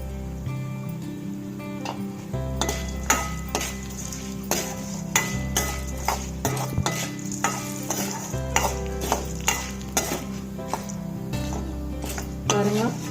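Ingredients and grated coconut for kaara chutney sauté in a pan, with a steady sizzle and frequent scraping, clinking stirs throughout.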